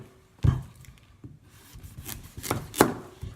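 A kitchen knife slices the tips off a butternut squash on a cutting board, with a few sharp close chops and soft scraping between them, no voices.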